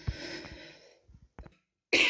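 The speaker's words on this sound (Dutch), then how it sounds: "Sorry, ik moest even hoesten." A single person coughs a few times in a short burst, close and fairly clear, followed by a brief louder noise at the end, with no talking.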